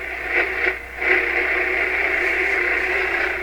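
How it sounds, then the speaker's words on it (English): A Deforest 10DA517 AM radio plays after its antenna is tuned, giving a steady, thin, narrow-band broadcast with faint muffled program sound over a constant hiss, alone and at moderate level. "That sounds like a little AM radio, just like it's supposed to sound."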